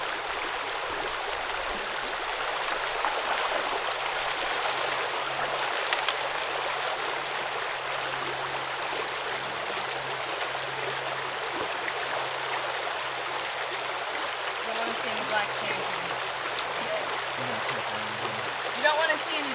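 A Gold Hog flow pan is worked in water while panning for gold, with a steady close wash of rushing, swirling water running throughout and a voice talking faintly over it.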